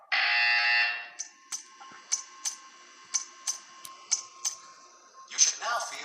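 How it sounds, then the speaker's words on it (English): In the Portal 2 video game, a loud, steady buzzer tone sounds for nearly a second, then a run of sharp, evenly spaced ticking clicks follows. "When you hear the buzzer, stare at the art."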